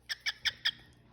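A pet cockatiel parrot gives four quick, bright, high-pitched chirps in an even rhythm, close by and alone, followed by a brief quiet.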